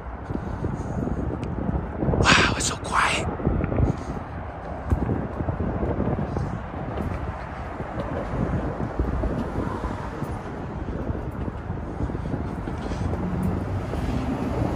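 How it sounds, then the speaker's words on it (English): Strong gusty wind buffeting the microphone high up on the Benjamin Franklin Bridge, a constant rumbling roar with a brief sharper burst early on. "it's so windy, I don't want the wind to push this thing right out my hand"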